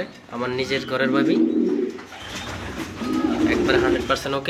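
Two large female pigeons cooing in a loft, soft repeated low coos up close while someone talks over them.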